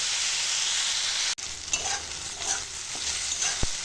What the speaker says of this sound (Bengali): এখন তরুলি সবজিটা নেড়ে নেড়ে রান্না হচ্ছে